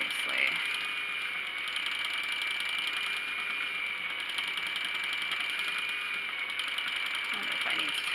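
Spinning wheel turning steadily while plying yarn, a continuous faint mechanical whir with light ratcheting clicks from the flyer and brake band, even and unbroken throughout with no talk.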